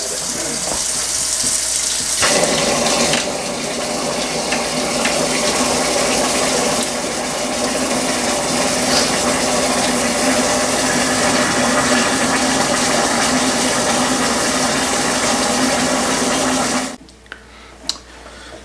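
Water pours steadily from a kettle during cheesemaking with raw milk for Caerphilly, a continuous loud splashing gush that runs for most of the stretch before cutting off abruptly near the end.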